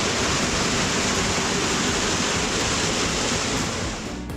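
A waterfall on the Ayusai hiking trail roars as a dense, constant rush of falling water, loud and close, with no voices over it.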